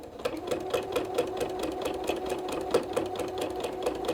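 Sewing machine stitching around the edge of a quilt facing, a fast steady mechanical rattle with regular needle beats, close and continuous with no talking.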